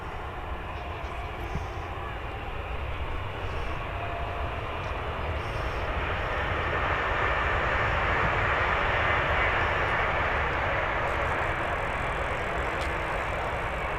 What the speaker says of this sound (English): Do have a Ryanair getting ready to depart as well